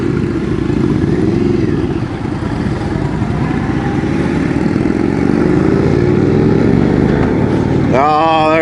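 An Indian Dark Horse motorcycle with ABS rumbles steadily on the road, its engine note climbing slowly under acceleration, with strong wind buffeting throughout and a short whining sound near the end.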